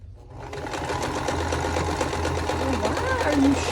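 A sewing machine runs steadily while quilt blocks are chain pieced one after another, its motor hum loud and continuous with a busy rhythmic stitching texture throughout, and a person talks briefly over it.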